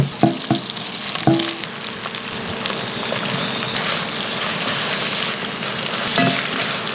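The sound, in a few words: shrimp shells, celery and onion sizzling in butter in a hot pan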